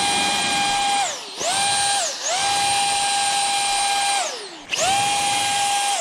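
A Ryobi power blower runs outdoors in freezing weather with a steady high whine that winds down briefly twice and spins back up, loud and close with no talking.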